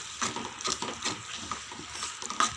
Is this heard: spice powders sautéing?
yes